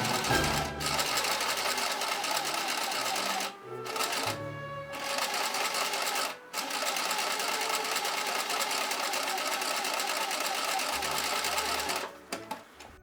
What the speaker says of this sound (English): and then sew on the machine